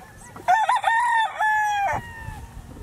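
A gamefarm rooster crows once, loud and close, a clear drawn-out cock-a-doodle-doo with a few clucks around it.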